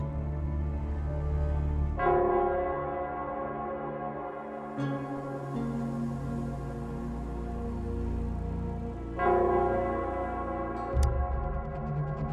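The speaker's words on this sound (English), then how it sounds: "it's the Nell Squares bell." The Nell Squares bell tolls in the video game Wuthering Waves, each deep, resonant strike ringing out with long overlapping harmonics, struck about three times at a slow, even pace over soft ambient game sound.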